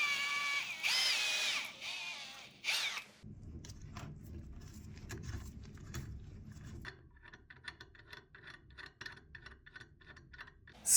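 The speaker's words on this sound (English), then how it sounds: "I decided to drill out the threaded part completely and re-tap the hole." Drill bit boring out a damaged threaded hole in the steering spindle of an old neglected Volvo, a steady grinding whir with rapid ratcheting clicks, close and fairly loud after a brief opening burst.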